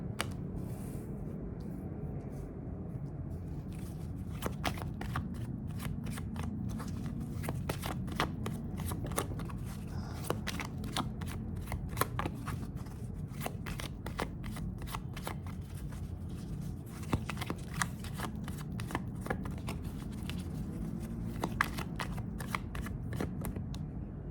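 Tarot cards being shuffled and drawn, a long run of quiet, rapid riffling and flicking card snaps close up, steady and crisp, with no voices.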